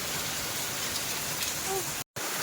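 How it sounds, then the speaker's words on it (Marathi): Heavy monsoon rain pours steadily in Baramati, a dense, even hiss of downpour on surfaces with a brief cut-out near the end. "पण पाऊस येतोय"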